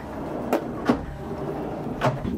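A storage drawer in a camper van slides and knocks, giving three short thuds spaced unevenly over a quiet room background.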